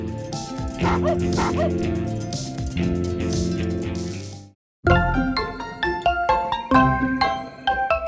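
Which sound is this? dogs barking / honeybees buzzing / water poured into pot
dogs barking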